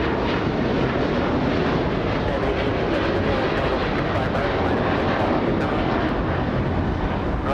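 Boeing 777 jet passing at 200 knots near Los Angeles International Airport, a loud, constant, dense engine roar filling the whole stretch without pause.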